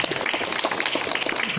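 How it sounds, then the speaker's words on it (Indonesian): An audience at a pesantren Quran-study gathering in Karawang applauds, a dense patter of many hands clapping steadily at moderate loudness without pause. "Tepuk tangan dong."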